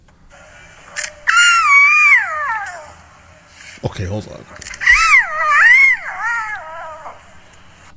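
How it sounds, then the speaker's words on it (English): Lion cubs try to roar, giving two drawn-out, wavering, mewling calls that rise and fall, split by a brief pause where someone speaks a few words. "cubs will try to join in even when they aren't old enough to roar yet"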